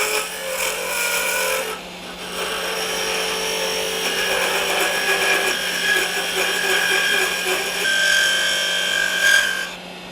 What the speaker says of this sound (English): Then we're going to turn a tenon on the end of it using a bidan tool.